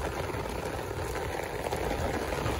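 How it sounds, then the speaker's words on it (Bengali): Rain falling at night in Malaysia, a steady dense patter with a soft rushing wash, even and moderately loud throughout with no pauses, alone without talking. "তো বৃষ্টি পড়তেছে,"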